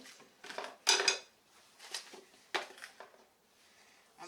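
Potatoes dropped into a crock pot, several sharp clattering knocks against the ceramic pot in uneven bursts, close and fairly quiet with no talking.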